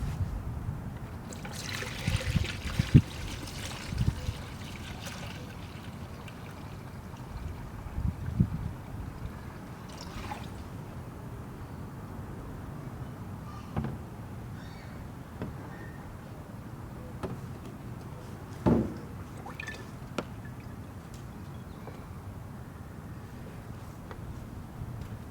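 Coolant pours through a funnel into the cooling system of a 1991-2005 Honda NSX, a low steady liquid trickle and gurgle with occasional clunks and knocks, no talking.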